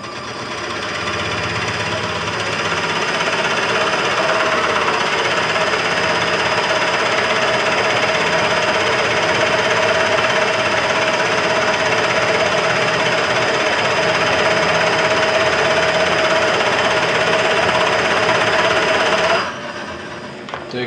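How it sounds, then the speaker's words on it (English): NOVA Viking 16-inch DVR benchtop drill press boring with a Forstner bit, its motor holding a steady loud whine under load that runs continuously for about nineteen seconds before stopping. "as that Forstner goes in there and starts to put some serious torque on the motor, it just matches it and goes right back to 500 RPMs"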